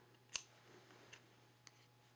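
Scissors trimming something close by, a single sharp snip followed by a few fainter cuts against a quiet background with a steady low hum.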